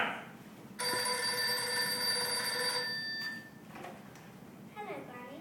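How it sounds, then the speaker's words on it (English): A telephone bell rings in a home during a children's stage play of Little Red Riding Hood, a bright steady electronic trill lasting a couple of seconds and then stopping, with faint room noise and a voice rising after it. "Just then, the phone rang."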